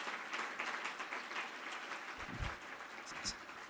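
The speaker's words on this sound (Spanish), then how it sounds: "Un aplauso para él" A seated audience at a financial congress in Mexico claps in quiet, distant applause, a steady crackling patter that runs throughout, with a few low thumps near the end.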